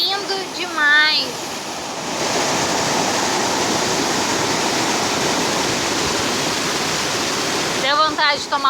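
The Córrego Fortaleza waterfall roars in a steady, loud, broad rush that fills several seconds. Brief speech is heard at the start and the end.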